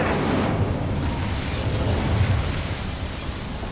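The Incendio fire spell is cast inside a goblin mine in Hogwarts Legacy, giving a sustained roaring, crackling burst of flame, steady and fairly loud throughout.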